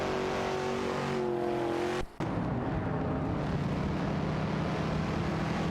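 Engines of a Chevrolet Camaro and an Oldsmobile 442 in a racing video game drone steadily at high revs, with a brief cut in the sound partway through and the engine pitch shifting afterward.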